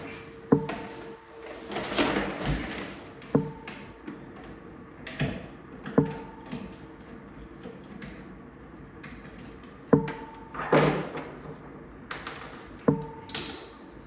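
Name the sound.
removing the lock from an arcade cabinet door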